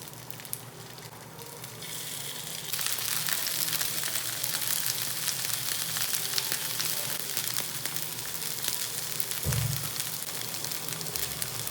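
Colocasia leaf rolls (patrode) frying in oil on a pan, a steady crackling sizzle that swells after a few seconds and holds close and loud to the end, with a brief low bump near the close.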